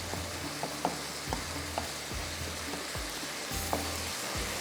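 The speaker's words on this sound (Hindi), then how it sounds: "टमाटरों को थोड़ा सा आपने इस तरह से प्रेस करते जाना है, ताकि ये टमाटर जो है ये इसके अंदर मिक्स हो जाए।" Tomato and onion masala fries in a pan for capsicum butter fish while a spoon presses it down, a soft steady sizzle broken by repeated light scraping knocks, with no talk.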